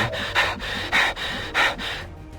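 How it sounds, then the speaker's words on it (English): Heavy, ragged breathing from a character in the XCOM 2: War of the Chosen video game comes in three or four loud gasping bursts, each followed by a quieter exhale, close and with no talk. "It's a lot of heavy breathing."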